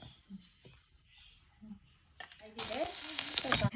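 Oil heats quietly in a pan for a few seconds, then bursts into a loud, steady sizzle as food hits it, with faint clinks before.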